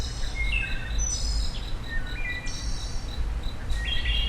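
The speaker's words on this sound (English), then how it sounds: "Those birds are wood thrushes." Wood thrushes sing outdoors, giving clear, fluting whistled phrases at intervals, some near and some farther off, over a steady background trill of crickets, with no talking.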